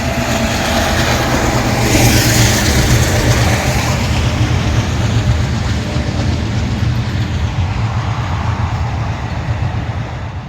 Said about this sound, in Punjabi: ਇਹ ਲੋ ਜੀ ਇਹ ਆ ਟ੍ਰੇਨ ਆ ਗਈ ਹੈ